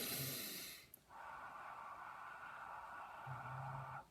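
A long, hoarse exhale with a hazy breathy rush, preceded by a brief sharp sound and followed by a low hum, fairly close.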